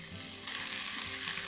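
Chicken fries in butter and garlic with spring onions in the pan, giving a steady, close, crackling sizzle with no voices.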